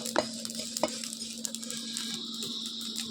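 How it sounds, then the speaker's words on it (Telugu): Dried red chillies fry in a hot pan with a steady crackling sizzle and a few sharp stirring scrapes of a spoon near the start, all close and fairly quiet, with no voices. "ఇవ్వండి ఇలా దోరగా వేయించుకుంటే చాలు."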